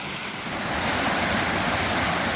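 Creek water cascading down a series of falls near Iris Falls by Lost Corner, Arkansas, a steady, loud, close rushing roar with no voices, swelling slightly as it goes on.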